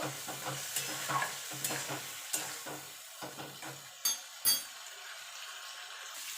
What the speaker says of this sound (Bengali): এবার মাছের তেলের সঙ্গে ভালো করে মিশিয়ে একটু ভাজা ভাজা করে নেব।